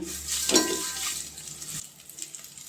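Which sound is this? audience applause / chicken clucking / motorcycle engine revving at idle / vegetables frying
vegetables frying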